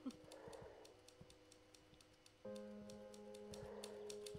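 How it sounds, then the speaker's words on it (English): Typewriter typing in the game The Novelist, a faint run of quick, light key taps over a quiet ambient tone that shifts partway through. "Why am I hearing typing if he's not his typewriter?"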